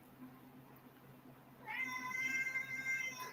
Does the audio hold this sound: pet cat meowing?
yes